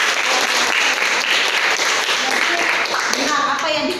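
A classroom audience in an Indonesian teacher-training lesson claps together, a dense, loud burst of applause that holds steady for several seconds.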